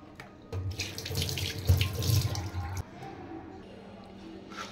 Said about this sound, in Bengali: এবার আমি মাছগুলো ধুয়ে নেব।